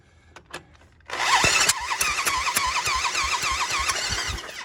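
After a quiet stretch with a few light knocks, the engine of a Yamaha 225DX Tri-Moto three-wheeler, running without a carburetor, is cranked over to check compression, giving a loud, close, continuous churning with even rhythmic pulses and a wavering whine.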